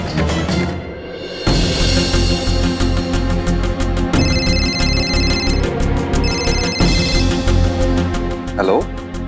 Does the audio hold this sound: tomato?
no